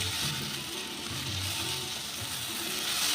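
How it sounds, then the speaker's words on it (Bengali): Eggplant, potato and spinach fry together in oil in a pan, making a continuous, close, dense sizzle with soft bubbling underneath and no talking. "দিয়ে আরেকটু ভেজে নেব"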